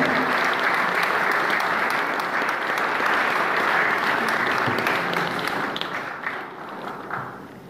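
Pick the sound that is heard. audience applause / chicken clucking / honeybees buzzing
audience applause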